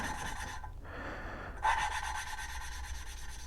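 Engine valves on a 1983 Suzuki GS 1100 E inline four-cylinder head are lapped with lapping compound, giving a close, continuous gritty rubbing rasp with a brief lull partway through.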